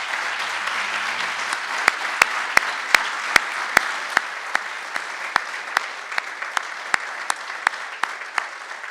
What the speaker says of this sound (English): I think you all deserve one more big round of applause.